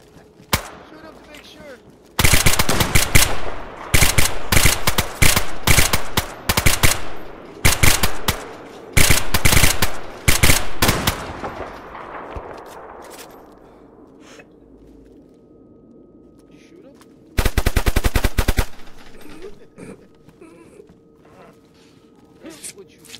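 Sustained machine-gun fire in a video game rattles in long, loud bursts with short breaks, then trails into a decaying echo, and one final burst comes later. Excited voices call out over the shooting.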